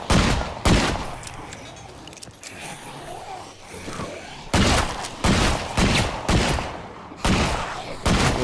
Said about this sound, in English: Yeah, now she uses a shotgun.